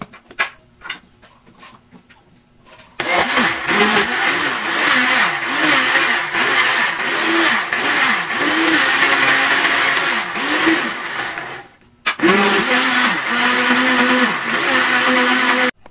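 An electric blender whirs loudly as it blends an avocado cream shake with large chunks of ice, starting after brief clatter, then running steadily with a warbling churn, pausing briefly and starting again.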